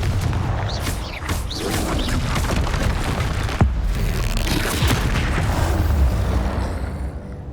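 Confringo blasting spell explosions in Hogwarts Legacy, a dense roar of booms and crashing impacts with a sharp crack midway, loud and sustained before fading at the end.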